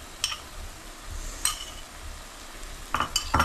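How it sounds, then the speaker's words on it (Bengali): Sour yogurt is stirred into frying masala for doi katla, a Bengali fish curry, with a spoon scraping the pan in a few sharp, close strokes over a low, soft sizzle. No one speaks. "দেখুন এখন টক দইটা 100 গ্রামের মতন আমি এটা মিশিয়ে দিচ্ছি।"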